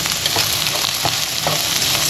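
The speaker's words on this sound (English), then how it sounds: "I do want to toast my orzo, so I'm going to go ahead and throw my orzo in here with my" Orzo toasting in a hot pan with asparagus and garlic, a constant loud sizzle with scraping stirs and small clatters of the utensil against the pan.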